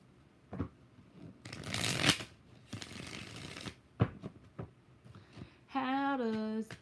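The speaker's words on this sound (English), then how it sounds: "One more shuffle." Tarot cards shuffled by hand in bursts of riffling and sliding, close and fairly loud, with short pauses between.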